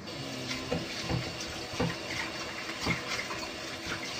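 Running tap water splashes steadily over a duck being washed in a kitchen sink for soup, with a continuous rushing stream broken by a few louder splashes as the bird is handled, no talking.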